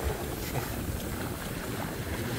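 Large ocean waves break on a beach in a dense, steady wash of surf mixed with wind noise on the microphone, with no voices.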